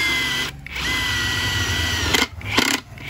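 A Hukan X1 Pro cordless impact driver runs at close range, its high motor whine switching into a rapid rattling hammer near the end, loud with short pauses between bursts.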